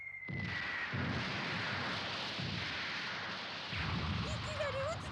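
Heavy booming blasts of cannon fire from a hydraulic rotating gun turret in an anime, several deep rumbling explosions in sequence with lingering roar between them, loud and close.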